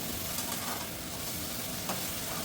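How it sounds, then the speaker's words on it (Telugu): Ginger-garlic paste and mint fry in ghee for a veg paneer biryani, giving a steady, continuous sizzle with a soft hiss that holds evenly throughout. "అల్లం వెల్లుల్లి పేస్ట్, పుదీనా కాంబినేషన్ అయినప్పుడు 2 కలిసి వేగుతుంటే మంచి ఫ్లేవర్ వస్తుంది అన్నమాట నెయ్యితో పాటు"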